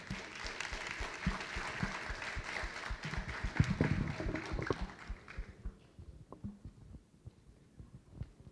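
An audience at the Deep Tech Rio 2025 science forum in Rio de Janeiro applauds a panel for about five seconds, a dense patter of many hands clapping that then thins out to a few scattered claps and quiet.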